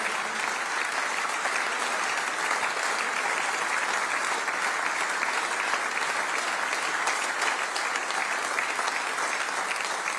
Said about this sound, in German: Unsere 60 Jahre Bundesliga-Legenden, nochmal großartigen Applaus.